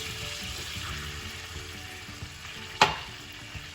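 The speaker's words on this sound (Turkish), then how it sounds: "tereyağımız eridi. Şimdi unumuzu atıyoruz." Flour drops into melted butter in a pot and starts to toast, giving a soft steady sizzle with a brief louder hiss partway through, close and without talk.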